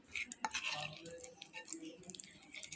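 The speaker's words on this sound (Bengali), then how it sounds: "একটা গোলা আমি গুলে নেব" Wheat flour batter gets stirred in a bowl, giving soft irregular scraping and light clinks of utensil against the bowl, quiet and close, with no voices.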